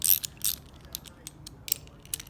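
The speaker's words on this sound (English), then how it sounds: "then with a 1/2-inch ratchet you tighten" A 1/2-inch ratchet tightens a flanged lock nut on a 2021 Dieselgeek Sigma shifter assembly, giving a series of quick, close metallic clicks in uneven bursts, with no talking.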